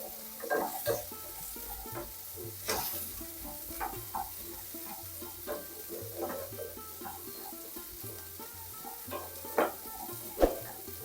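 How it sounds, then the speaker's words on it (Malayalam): Small garlic cloves sizzle in hot oil in a pan as a masala curry is started, the frying hiss broken by intermittent scraping stirs and spoon knocks, close and fairly quiet. "ഇതിനകത്ത് ഈ വെളുത്തുള്ളിയും കൂടി ഇട്ട് കൊടുക്കേ"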